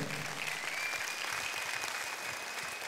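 A church congregation claps in praise, a continuous, fairly soft wash of applause at an even level, with faint low thumps beneath.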